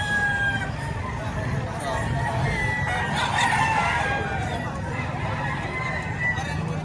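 Rooster crowing at a livestock auction market in Padre Garcia, with several drawn-out crows rising over a busy background of clucking fowl and people talking nearby.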